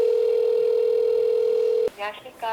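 A steady, unbroken telephone line tone hums for a couple of seconds, then cuts off as a voice begins speaking.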